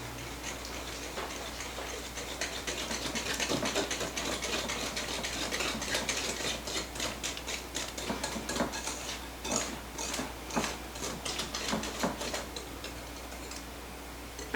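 A whisk from All-Clad stirs blondie batter by hand in a bowl, giving a steady run of light, rapid ticking clinks against the sides that continues throughout without talk.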